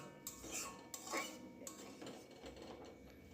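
A utensil scrapes and clinks against a pot while fish curry with added water is stirred, giving a few soft metallic knocks and a wet stirring swish, fairly faint and close.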